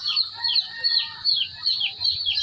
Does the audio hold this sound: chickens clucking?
yes